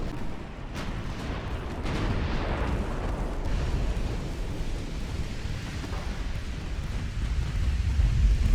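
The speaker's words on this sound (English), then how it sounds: "Our first torpedo hit" A torpedo strikes a warship in the naval battle game Ultimate Admiral Dreadnoughts, giving a rumbling, booming explosion amid continuous low battle noise that rolls on for several seconds.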